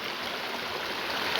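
A waterfall in a gorge roars in a steady, dense rush of falling water, loud and continuous with no voices.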